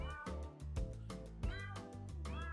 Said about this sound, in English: I do really like the meow track.